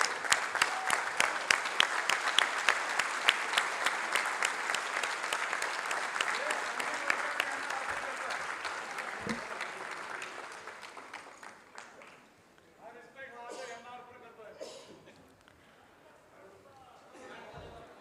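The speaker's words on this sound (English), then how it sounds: "I request a standing ovation for sir with big round of applause." An audience at a cardiology conference gives a standing ovation, with rhythmic, loud clapping for about ten seconds that gradually thins out, followed by scattered chatter and a few last claps.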